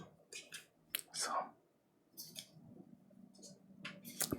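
Soft, close papery clicks and riffles come in short bursts with pauses as tabletop RPG game cards are shuffled quietly by hand.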